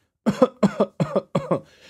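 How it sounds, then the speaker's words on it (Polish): Four deliberate double coughs in quick succession, close and loud, each pair evenly spaced, followed by a breathy exhale. "Pierwsza kwestia to jest wziąć i po prostu pokaszeć."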